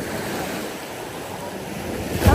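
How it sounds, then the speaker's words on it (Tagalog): Strong ocean surf breaks at Pasicon Beach, Siargao, a steady wash of waves with wind buffeting the microphone and a louder surge at the end. "lakas ng alon"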